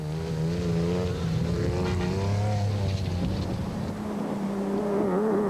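Race cars in the 2003 Nissan Dealers 400 endurance race, including a race-leading Nissan and a Mitsubishi Colt, with engines roaring and whining steadily at high revs, their pitch rising and shifting as they pass, loud and continuous throughout.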